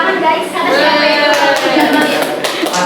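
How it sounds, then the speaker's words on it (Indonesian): An audience bursts into applause, dense steady hand clapping from many people that carries loud and unbroken through the whole stretch. "tepuk tangan guys"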